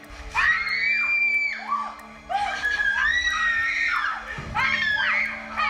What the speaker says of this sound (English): the girls are off with loads of screams in their water zorb